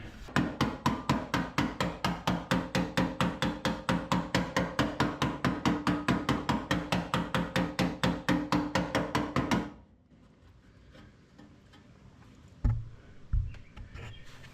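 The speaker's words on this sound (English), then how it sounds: "I'm going to pull out the hammer and see how much effort it'll take to beat this into submission" Rapid, evenly spaced hammer blows ring against sheet metal of a car's wheel area for about ten seconds, then stop, leaving quiet with a couple of faint knocks.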